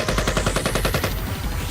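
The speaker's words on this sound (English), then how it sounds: "The sound of a familiar gunshot marks the enemy's sideways tumble." Rapid burst of gunfire in the I/O visual novel, a dense rhythmic volley of loud shots close up, repeating steadily for nearly two seconds before trailing off.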